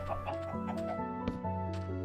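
Chickens cluck in the Minecraft video game, short repeated clucks sounding over steady background game music, moderately loud and with no talking.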